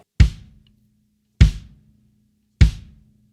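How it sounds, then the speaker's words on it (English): Three solid kick drum thumps on a drum kit, played on beats one and three, evenly spaced about a second apart, each ringing briefly before silence. No other instruments or voices. "on 1 and 3, we're going to hit this kick"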